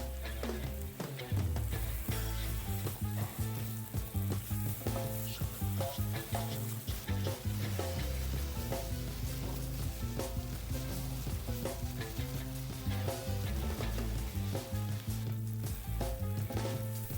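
Spicy Korean barbecue pork with white and green onions sizzles steadily in a pan, a loud, continuous frying hiss with occasional stirring scrapes and no talking.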